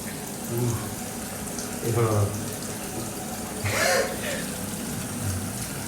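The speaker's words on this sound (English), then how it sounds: "I'm washing my face." A tap runs into a sink while someone washes their face, a steady hiss of flowing water with a few louder splashes, and people talk over it at times.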